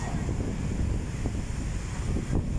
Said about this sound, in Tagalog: napakakapal guys ng ulan at uh, malakas yung hangin guys